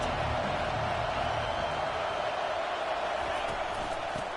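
Stadium crowd in the College Football 25 video game, a constant broad roar of cheering fans that holds at a steady level for the whole stretch, with commentary over it.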